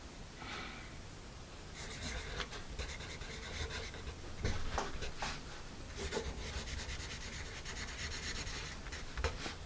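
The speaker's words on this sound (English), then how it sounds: "this is a fairly quiet pencil." Soft scratchy rubbing of an Apsara Absolute pencil moving across paper, a quiet, irregular stroking sound heard close up.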